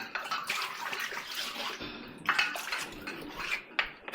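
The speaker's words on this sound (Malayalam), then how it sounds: "അങ്ങനെ കല്ല് കഴുകൽ പരിപാടി നടക്കുക അല്ലേ?" Water splashes and trickles as a stone grinding slab is rinsed and scrubbed in a Kerala kitchen, close-up irregular sloshing and pouring with brief louder splashes and no talking.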